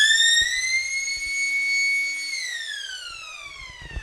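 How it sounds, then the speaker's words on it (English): A long, steady siren sounds at the end of a rugby match between the Yorkshire Academy and Australian Schools, loud and sustained, its tone holding level and then gliding down as it ends. "There's the siren"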